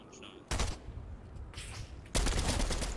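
Bursts of gunfire from a Fortnite match, a short volley starting around the half-second mark and a louder, sustained barrage near the end, over a steady game background.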